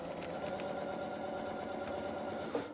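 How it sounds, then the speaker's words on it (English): Sewing machine running steadily for free-motion quilting of a traditional feather with backtracking, a close, even mechanical hum with no talking. "I'm going to do my traditional feather with the back stitching,"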